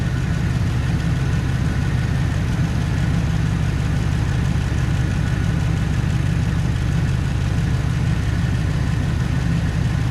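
An old pickup truck's engine idles steadily with a broken exhaust, a loud, continuous low rumble with rough pulsing throughout and no voices.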